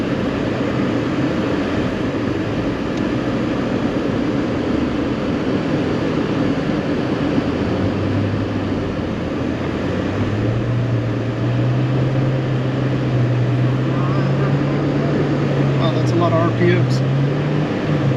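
A Class A motorhome engine accelerates up a snowy driveway, a loud steady droning rumble that climbs in pitch as revs rise in the second half, with some faint clatter near the end.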